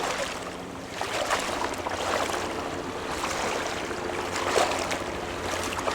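Wading on foot across the flowing Pentecost River at El Questro Station, with steady rushing, splashing water noise close by and no talk.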